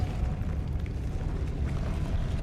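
A Depulso spell blast in the Hogwarts Legacy video game, heard as a loud, dense, sustained rushing boom that fills the whole moment without voices.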